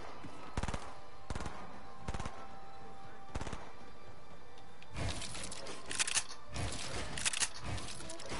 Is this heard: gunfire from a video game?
yes